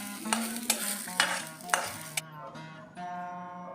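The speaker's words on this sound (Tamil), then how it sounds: "இப்போ அதுலேயே கொஞ்சம் கருவேப்பிலை போடுறேன்" Curry leaves sizzle in hot oil in a pan for temple-style pulikachal tamarind rice. A steady frying hiss comes close up, broken by several sharp stirring scrapes, then the sizzle settles, with no voices.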